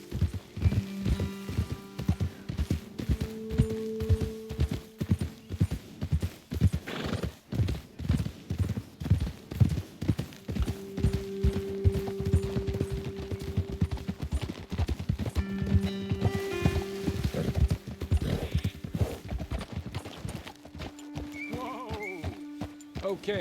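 Horses' hooves clip-clop steadily in Red Dead Redemption 2 as riders travel outdoors, a continuous rhythmic trotting with occasional whinnies and neighs, loud and close throughout, accompanied by faint in-game music tones.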